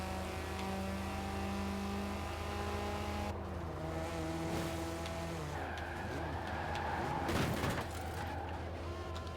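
A video game Cosworth racing engine revs and shifts repeatedly, pitch rising and dropping between gears, with a brief tire squeal near the end.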